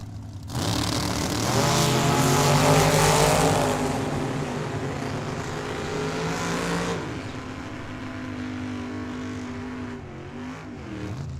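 An S10 and the Yantzer dragster launching side by side at a drag strip, a loud, harsh engine roar building quickly and then fading as the cars pull away.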